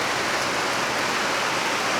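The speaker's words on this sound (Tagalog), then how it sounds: "malakas talaga yung ulan" Heavy typhoon rain from Typhoon Basyang pours steadily, a dense, loud hiss of drops filling the whole clip with no voices.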